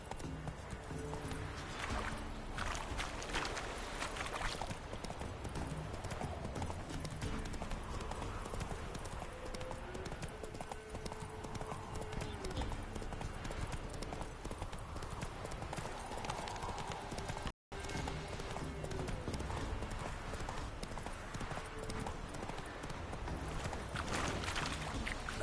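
Hooves of Roach the horse galloping in The Witcher, a continuous rapid clip-clop rhythm under game music, steady and fairly quiet throughout, with brief speech and a momentary dropout near the end.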